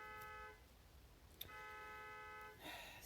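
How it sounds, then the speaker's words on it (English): A car horn honks outside in sustained blasts, clearly heard for about half a second, then again for over a second, ending in a burst of broadband noise, at moderate level with steady background hum. "I'm sure y'all can hear that horn honking outside."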